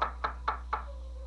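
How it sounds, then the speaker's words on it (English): Four quick, evenly spaced knocks on a door, fairly close and crisp, over a low steady hum, with no talking. "they knock at the door."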